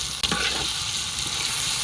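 Chopped onion frying in a pan with tomato, with turmeric, chili powder and salt being added; a loud, steady close-up sizzle after a brief clatter near the start, with no talk.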